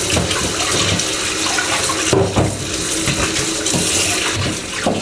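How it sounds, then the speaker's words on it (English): Tap water runs steadily into a kitchen sink as Chinese spareribs are rinsed for black bean sauce. The splashing is continuous and close, with a few brief clatters of handling and no talk. "Rinse it under running water for about 5 to 10 minutes."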